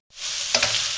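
Meat with onions, carrots and celery frying in a pan while being stirred, a brief close sizzle rising quickly to a steady hiss with a small scrape partway through.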